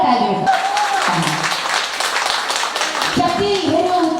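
Audience applause at a Teej festival dance held by the Nepal Engineers' wives society, a steady wash of clapping with a tonal background melody throughout, and brief child-like voices mixed in.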